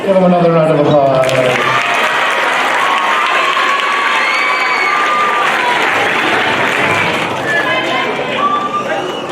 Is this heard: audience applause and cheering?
yes